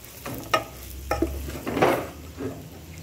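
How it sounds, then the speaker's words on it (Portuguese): Farofa is stirred into feijoada in a pot with the heat just switched off. Several close scraping, sloshing strokes of a spoon through the thick beans come at a steady rhythm, with no talk. "Acrescentei a farofa, vou desligar o fogo e vou mexer."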